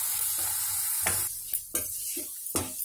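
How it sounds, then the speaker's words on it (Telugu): Masala paste fries in butter in a pan, a bright hissing sizzle broken by several sharp scrapes and clacks of a spoon against the pan, close up. "ఈ పేస్ట్ని ఈ బటర్లో బాగా వేయించుదాం"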